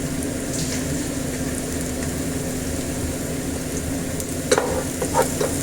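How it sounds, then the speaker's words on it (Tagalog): Garlic fries in a pan with a dense, continuous sizzle, close and fairly loud, and a few scraping clatters of a spatula stirring near the end. "Lagyan na po natin ang ating garlic"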